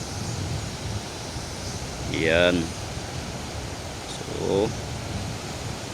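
River water rushes over a low spillway on a wild river, making a steady, enveloping roar while someone briefly speaks over it.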